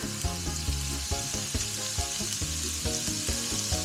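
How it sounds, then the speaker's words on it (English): Green and red peppers, carrots and spring onions are stir-fried for sweet and sour tilapia, giving a loud, continuous sizzle with regular clacking of the utensil against the pan, close up and without voices. "Stir fry that for a couple of minutes."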